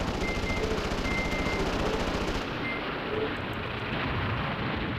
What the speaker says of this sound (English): we got another airstrike